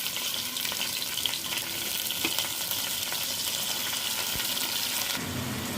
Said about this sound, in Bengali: পেঁয়াজটাকে আমি বাদামি করে ভাজবো না, হালকা করে ভেজে নিব।